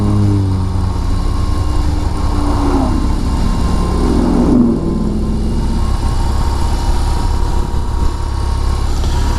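BMW R18 First Edition motorcycle engine running steadily while descending a hillside road, a continuous low rumble with engine braking, close and loud throughout with wind noise and no voices.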